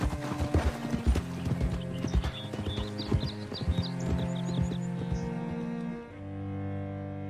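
Horse hooves clip-clop steadily on the ground in Red Dead Redemption 2, a close, rhythmic plodding with a brief whinny and faint bird chirps behind, before the hoofbeats slow and fade near the end.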